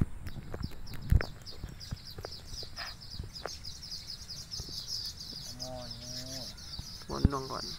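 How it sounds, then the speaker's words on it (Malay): Birds call and chirp near a ditch beside a rice field, with repeated high twittering throughout, a few harmonic calls toward the end, and scattered thumps and faint talk in the background. "Burung bunyi."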